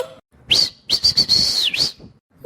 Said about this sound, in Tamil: எந்த காட்டு பயட விசில் அடிக்கிறது